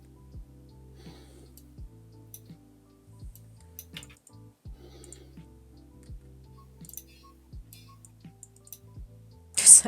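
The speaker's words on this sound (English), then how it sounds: "Is that your cuckoo? Did you hear?" A Swiss cuckoo clock ticks steadily and evenly, with soft ticks close by in a quiet room. A brighter clatter comes right at the end.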